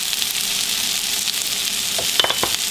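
Steady, close sizzling and crackling of Brussels sprouts frying in a pan, with a few sharper pops and scrapes near the end; no talking.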